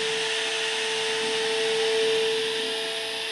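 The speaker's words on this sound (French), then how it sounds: "on va envoyer de l'air sur les joints avec un sèche-cheveux" A steady, loud blowing whir of a hair dryer aimed at window or door seals, with a constant high tonal hum running through it, continuous without pause.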